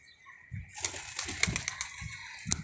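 Pigeon chicks and pigeons at a loft, with soft coos, wing flaps and rustling, close by, rising after a quiet start, with no talking.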